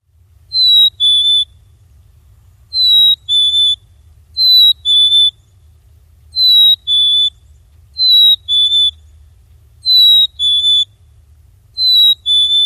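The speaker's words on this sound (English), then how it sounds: "Yes, this is the black-capped chickadee call." Black-capped chickadee territorial call, a clear high two-note whistle repeated seven times at a steady pace, loud and close, with low background hum between the calls.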